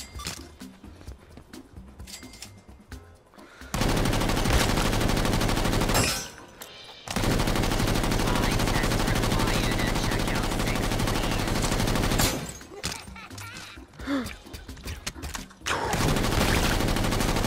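Rapid, dense gunfire from a fruit-shooting arcade game, sustained loud bursts broken by brief pauses, with occasional voices in the gaps.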